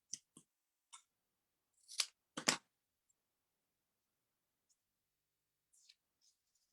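Scissors snipping paper for a handmade thank-you card, a few light close snips and a couple of longer cuts, quiet with silence between.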